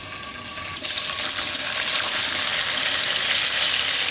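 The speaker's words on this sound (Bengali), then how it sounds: "এই আলু ভাজা তেলের মধ্যেই পনিরটাকে ভাজা নেব" Paneer sizzling in hot oil already used for frying potatoes, a soft hiss that swells into a loud, steady crackling fry lasting to the end.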